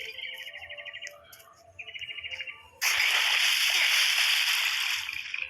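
Bright bird chirps give way to loud, sustained water sloshing and rushing in a Roblox prison escape game, continuing steadily to the end.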